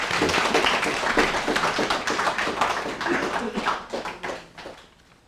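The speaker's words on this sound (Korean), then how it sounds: "박수 한번 해드리시죠." A church congregation clapping during a Sunday worship service, a fairly loud, dense burst of hand claps that carries for several seconds before tapering off into a few scattered claps.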